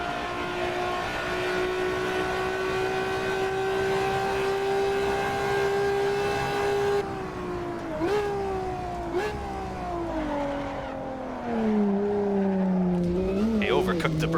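A Ferrari F50's engine in the racing game Assetto Corsa holds a steady high whine, then drops and rises through several gear changes with brief tire squeals, loud and close.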